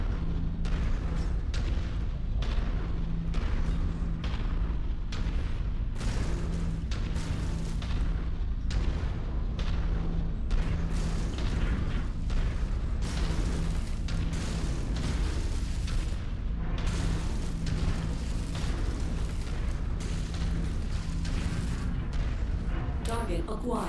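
AC-5 autocannons on a mech in MechWarrior 5: Mercenaries fire in rhythmic, heavy thumping bursts, repeated steadily over a constant low engine drone, with speech at times.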